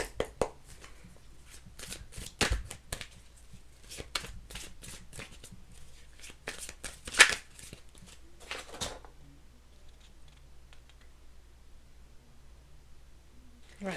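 Tarot cards get shuffled in rapid, close riffling bursts for about nine seconds, crisp and papery, then stop, leaving near silence with faint handling noises.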